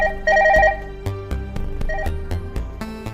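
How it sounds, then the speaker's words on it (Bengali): A telephone sounding with an incoming call, a close electronic ringtone of repeated tonal beeps and short melodic bursts, loud and alone. "এই টাইমে আবার ফোন করে কেন রে?"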